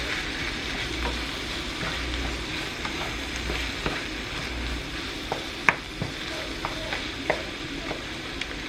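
Food stirred in a sizzling frying pan makes a steady hiss, broken by scattered scrapes and taps of the utensil against the pan, close by with no talking.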